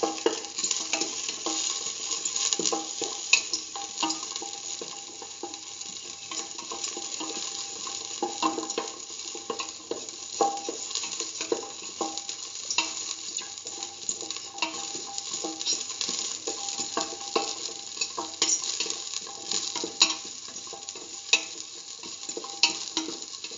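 Salted shallots sauté in a pan with a steady, close sizzle and frequent scraping, stirring clicks throughout, fairly loud and with no one talking.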